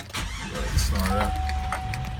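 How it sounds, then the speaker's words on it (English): A 2003 Chevrolet Avalanche Z71 engine cranks and catches, a brief loud rumble settling into a steady idle heard from the cabin, with a thin whine over it. "Start up."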